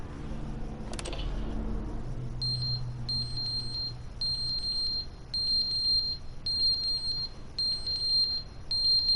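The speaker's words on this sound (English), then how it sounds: "Oh, that's about the alarm?" A smoke alarm sounds a steady string of sharp, high electronic beeps in quick pairs, repeating evenly through the room after a brief thump at the start, with no one talking.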